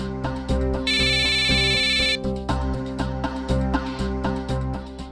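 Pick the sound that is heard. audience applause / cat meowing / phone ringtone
phone ringtone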